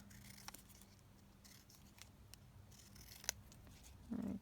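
Scissors cutting out a paper piece for an autumn flip-up folio craft, heard as faint, sparse snips and rustles at close range, with a slightly louder burst of handling right at the end.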